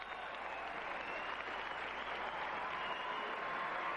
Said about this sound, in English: And a Buckeye salute from the hometown crowd